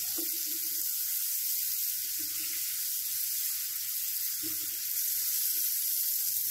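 Steady loud sizzling of tawa chicken frying on a hot griddle as fresh coriander and green chilies are added, a continuous close hiss with faint low clatter from stirring underneath.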